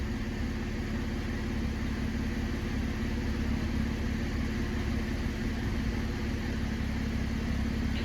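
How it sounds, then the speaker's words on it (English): A car engine idles steadily with a constant low hum and even drone, unchanging throughout, no talking. "There we are, guys, here just on idle."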